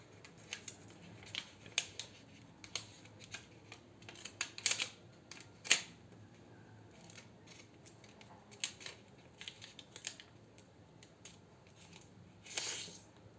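Paper folded into an origami kite base, with a series of crisp creasing and rustling crackles scattered across the span, some sharper snaps standing out, close and fairly quiet with no talking.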